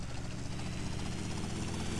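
A helicopter in the video game GTA: Vice City gives off a steady, low rotor and engine drone that stays loud and unbroken, with no voices.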